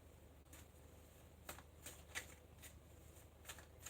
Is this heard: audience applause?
no